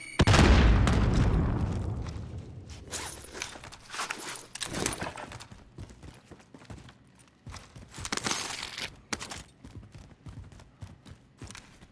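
A grenade goes off in a military video game, a loud boom at the start that fades out over a couple of seconds, then a scatter of shots, footsteps and clattering.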